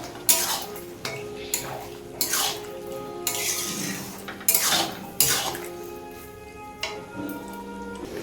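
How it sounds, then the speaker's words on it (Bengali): A spoon stirs fried chicken pakoras in a metal pan for chili chicken, making repeated sharp clinks and scrapes in an irregular rhythm, close and fairly loud. "ফ্রাই করে রাখা চিকেন পকোড়াগুলো দিয়ে দেবো, দিয়ে একটু নাড়াচাড়া করে নেবো।"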